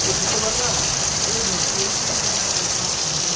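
Rain falls steadily as a dense, even hiss of drops striking surfaces nearby, constant and fairly loud, with faint voices under it.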